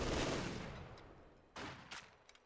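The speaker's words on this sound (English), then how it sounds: "Heavy machine gun." Heavy machine gun fire in the World War II strategy game Company of Heroes 2, a dense rattling burst fading out, followed by two sharper, distinct bursts of gunfire mid-battle.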